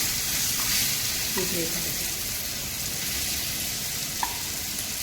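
Chicken pieces with curry leaves fry in hot oil, a loud, continuous sizzle filling the whole stretch, with a couple of soft pops and a sharp crackle near the end.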